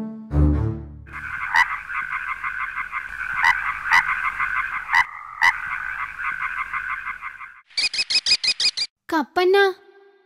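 A cartoon frog croaks in a long, steady, pulsing run, then gives a burst of quick, higher croaks near the end. A voice opens the clip, and the croaking is loud and close.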